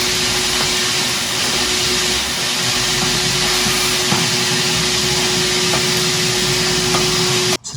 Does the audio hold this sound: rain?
no